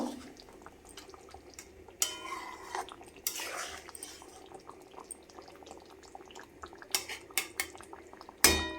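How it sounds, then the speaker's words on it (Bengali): Pabda fish curry with slit green chillies stirred gently in a pan, a few clinks of a utensil against metal over a quiet background, with sharper scrapes near the end. "হালকা হাতে একটু নাড়াচাড়া করে নেব।"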